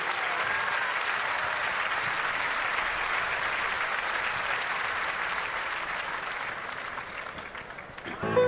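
A concert audience applauds warmly after a sung duet, with steady dense clapping that carries on for several seconds and slowly thins near the end, while a voice speaks over it.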